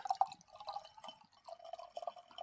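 Thick beer pours from a can into a glass with gurgling, dripping liquid sounds, soft and close, in uneven bursts over a couple of seconds.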